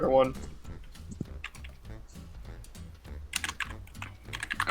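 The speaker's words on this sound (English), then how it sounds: "I'm typing that into YouTube now" Computer keyboard typing with a run of quick, irregular key clicks, fairly close, under and between bits of speech.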